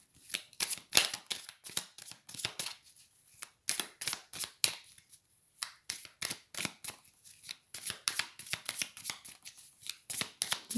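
Oracle cards are shuffled and drawn by hand, close and fairly quiet, in bursts of rapid riffling flicks broken by short pauses, with no talking.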